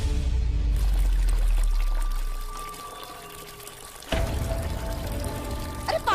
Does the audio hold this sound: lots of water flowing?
yes